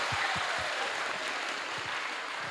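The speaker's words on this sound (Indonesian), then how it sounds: "Tepuk tangan." A steady wash of clapping from a crowd at an Isra Mi'raj religious gathering in a school in Purworejo, Central Java, broad and continuous, with a few low thumps underneath.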